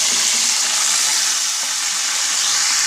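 Onion tipped into hot oil with browned urad dal for a Tamil onion chutney, producing a loud, continuous bright sizzle close by with no pauses or voices.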